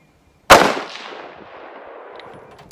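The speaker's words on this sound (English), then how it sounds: "let's see what a couple more follow-up shots do" A single loud rifle shot from a Howa 1500 chambered in 6.5 Creedmoor cracks out nearby at a shooting range, followed by a long reverberant decay and a faint click near the end.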